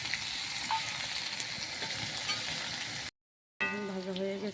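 Chopped onion, garlic and green chili fry in hot oil in a kadai, a steady close sizzle that cuts out briefly and resumes, with no talk.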